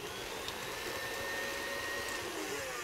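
Electric hand mixer beating cheesecake batter with eggs for rhubarb cheesecake, a steady continuous motor whir lasting throughout, close and fairly loud with no talking.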